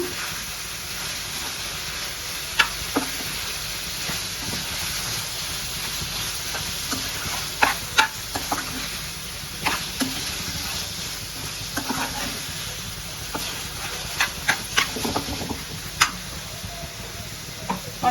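Raw banana pieces fry in a pan in Rayalaseema-style cooking, giving a steady, even sizzle. Scattered sharp clicks and scrapes of stirring break through it, and no one speaks.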